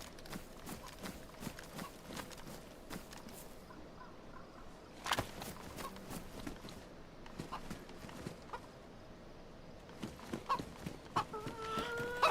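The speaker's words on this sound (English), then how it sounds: "And another chicken." Chicken clucks and fowl calls in the DayZ video game, set in Chernarus, scattered over a busy in-game soundscape with footsteps and clicks, with sharp bursts around the middle and the end.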